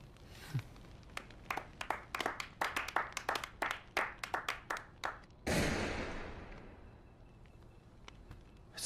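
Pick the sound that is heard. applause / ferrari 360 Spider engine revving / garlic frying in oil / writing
applause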